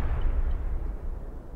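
Mortar artillery in the Broken Arrow war game rumbles continuously as a deep, low booming roll, steady and heavy with no clear separate shots, heard alone.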